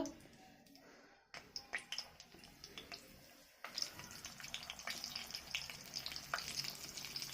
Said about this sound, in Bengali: আমি কড়াই তেল দিয়ে দিচ্ছি তেলটা গরম হয়ে গেছে একটা একটা করে দিয়ে দেবো